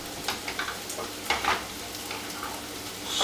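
Shrimp sizzle and fry steadily in a pan at close range, with scraping and stirring clicks scattered through the crackle and no talking.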